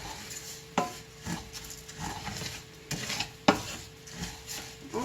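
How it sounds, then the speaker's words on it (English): Beef and bacon frying in a pan are stirred with a utensil, a low sizzle under repeated knocks and scrapes of metal against the pan in an uneven rhythm, close and clear, no voices. "I just went ahead and put all of those in there. Just going to keep stirring this"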